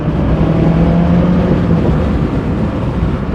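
A steady, loud car engine drone with constant rumbling, heard close up and without any clear rise in pitch.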